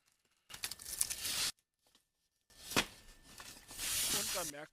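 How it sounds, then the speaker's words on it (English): A heavy Gauge 1 model Big Boy steam locomotive, a Union Pacific 4000 series, being lifted out of its packaging, with two bursts of crinkling, rustling and tearing material separated by a silent pause, close up. "Let's take the two items out of the packaging, and you can already feel the weight of the locomotive."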